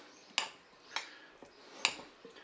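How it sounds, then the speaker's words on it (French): A spoon clinks against a salad bowl while pasta salad with tomatoes, gruyère and ham is tossed together, giving a few sparse, light knocks and scrapes spread out over a quiet background. "Je vais commencer à mélanger un petit peu déjà."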